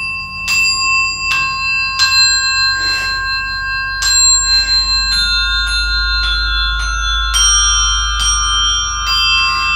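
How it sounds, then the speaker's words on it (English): Montessori bells struck one at a time, about ten clear ringing tones spaced roughly a second apart, each with a bright attack and sustained shimmering overtones, close and fairly loud with a low hum underneath. "So now we've listened to the bell, we matched the bell, we've done a gradation of the bell"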